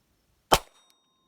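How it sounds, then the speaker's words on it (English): A single sharp crack from an XD9 pistol firing a CCI .22LR round, one short close bang with a brief ringing tail, followed by a faint click and otherwise silence. "So I'm going to shoot this off to your right."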